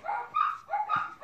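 Several dogs bark in quick, overlapping yips and bow-wows, two loud bursts of barking close by with no talk.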